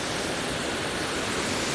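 Rushing water at the foot of a large waterfall near Rakwana, heard as a steady, dense broadband roar with no breaks and no voices.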